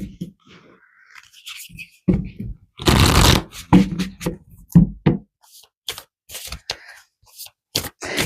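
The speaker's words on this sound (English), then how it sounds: "let's pull some more cards for you guys" Tarot cards are shuffled by hand in several bursts of riffling and flicking, with soft card taps and pauses between, heard close and alone with no talking.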